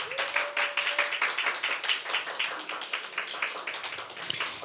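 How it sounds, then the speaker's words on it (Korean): A congregation at a Sunday church service claps to welcome a speaker to the front, a dense, steady patter of many hands with a brief tone near the start. "우리 나오실 때 큰 박수로 환영해 주시면 좋겠습니다"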